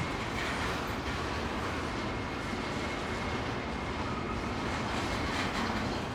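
Intermodal freight train rolling past at Gallitzin, Pennsylvania, a steady broadband rumble of wheels and cars that holds evenly throughout at moderate distance.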